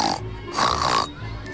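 A voice actor in a children's audio play imitates a pig, giving a few snorting grunts in short bursts that stand out loud and close with no other sound behind them.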